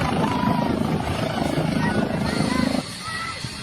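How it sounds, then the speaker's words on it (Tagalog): A red helicopter sets down in rainy weather, its rotor thumping steadily and loudly up close before the engine note drops near the end, with voices talking over it. "Kalapag na yung helicopter niya."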